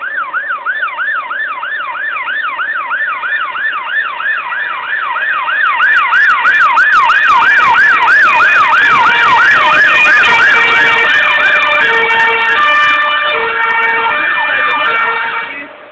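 Fire engine sirens wail at a fire at an old school, a fast oscillating whoop joined by a second siren as they draw near and grow loud, with traffic and crowd noise underneath.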